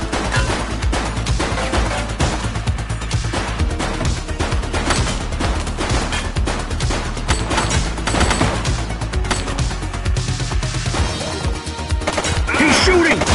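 Dense, relentless gunfire fills a police game, with many rapid overlapping shots and bursts over a steady low rumble, loud and close throughout.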